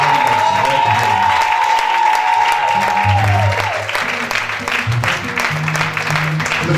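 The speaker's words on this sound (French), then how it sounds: "acclame très bien." A church congregation at a Sunday service applauds and cheers, dense continuous clapping and crowd noise, with a sustained tone and low musical notes underneath.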